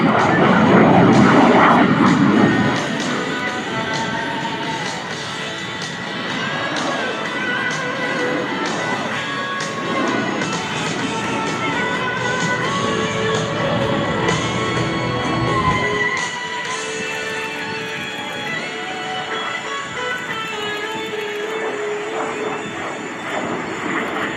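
A Lockheed T-33 Shooting Star jet trainer roars and whines at an airshow in Texas, with a steady high turbine tone and shifting pitch as it passes. An announcer talks throughout.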